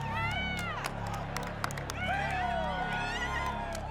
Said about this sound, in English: a crowd fills the seats of a local stadium.